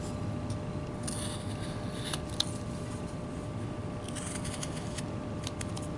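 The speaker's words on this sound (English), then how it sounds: "And let me cut that." A whittling knife shaves wood from a small carved burro, giving soft scraping cuts and a few sharper clicks over a steady background hiss, close by with no voices.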